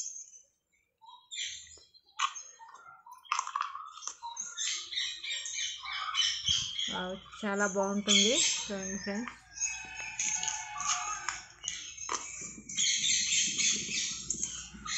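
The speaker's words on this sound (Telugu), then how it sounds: "చూడండి పక్షులు ఎట్లా వినిపిస్తుందో సౌండ్," Many birds call and chirp around a tall banyan tree at a temple, with bright overlapping tweets and a rooster-like crow amid the chorus, while a person talks over them.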